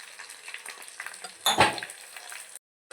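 Spices and chilli powder crackle in hot oil for tempering a brinjal moru curry, a loud continuous sizzle with stirring clinks that swells into a sharp hissing burst midway before cutting off abruptly.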